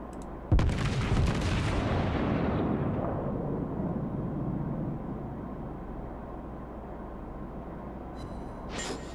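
A deep, heavy naval cannon blast from an American battleship's main guns in World of Warships booms loudly, followed by a long rumbling decay that fades over several seconds, with a faint sharp rattle near the end.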